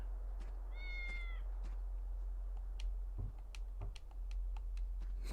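In the video game Fantasian, a cat lets out one short, clear meow early on, heard alone over steady low hum and scattered light ticks and clicks.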